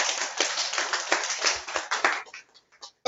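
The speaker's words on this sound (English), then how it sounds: "Let's clap hands for ourselves." A seminar audience at a freelancing event in Harare, Zimbabwe, claps their hands together, a loud sustained round nearby that tapers into a few scattered final claps.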